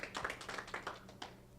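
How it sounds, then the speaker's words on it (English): Audience clapping at a small gathering, a short burst of hand claps that rise and fade over about a second and a half at moderate distance. "Give yourself a hand of applause"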